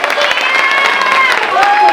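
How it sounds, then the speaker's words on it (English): A crowd at a fado night fundraiser applauds, loud dense clapping mixed with cheering and voices throughout. "give these guys a round of applause"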